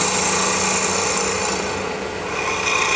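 A lathe tool taking fine cuts on a spinning piece of cocobolo wood during woodturning, a steady close rasping scrape that holds continuously with no talk.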